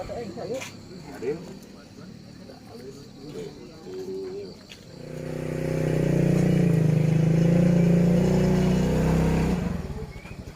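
Near the end of the clip a motorcycle engine runs nearby, rising to a loud steady rumble that holds for several seconds before easing off, after a stretch of talking voices.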